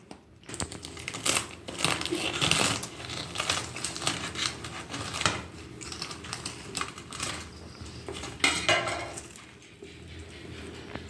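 A knife cuts through a crisp pan-fried egg roti, giving a run of dry crunching, crackling strokes at close range, irregular and busy over several seconds.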